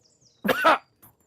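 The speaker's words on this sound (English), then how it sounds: "He gives one last hard cough and he wipes his lips." A single hard, throaty cough bursts out close and loud, followed a moment later by a faint short breath or rasp, with silence around it.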